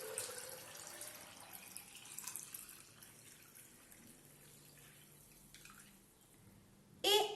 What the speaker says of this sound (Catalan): Vessam l'aigua.